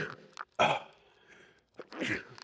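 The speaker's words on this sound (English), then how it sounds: "I have to sneeze, hold on." A person sneezes sharply, with a short breathy lead-in, a loud burst, and a second noisy exhalation a moment later, close and alone without speech.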